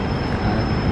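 A train rolls past close by in Tamsui, Taiwan, a loud, dense rumble of railcars with metallic wheel squeal running continuously.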